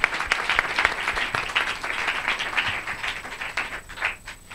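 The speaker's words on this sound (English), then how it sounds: "People of God, clap your hands beautiful for Jesus." Church congregation at a healing service clapping for Jesus, many hands in a dense, lively burst that gradually thins and fades toward the end, without speech.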